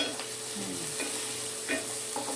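Onion and garlic sauté in a pan for picadillo. A soft continuous sizzle runs under a few light scrapes and stirs of a utensil, with no talking.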